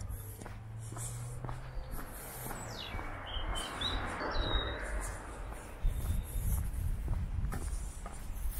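Birds sing and chirp at a distance during an early-morning walk near a park, faint high calls scattered over a steady outdoor wash with soft footsteps and rustling.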